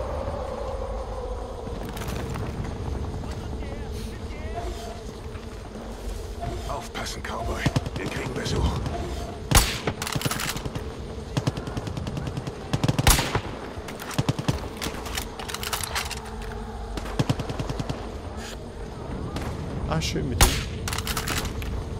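Gunfire in the shooter game Far Cry 5: sharp shots and bursts crack out irregularly over a steady background rumble, some close and some more distant, with players talking throughout.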